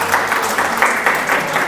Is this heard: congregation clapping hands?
yes